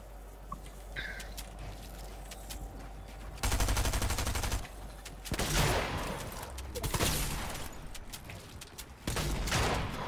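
Gunfire rattles in the video game Fortnite, with a few loud bursts of rapid shots and longer rattling volleys separated by quieter gaps.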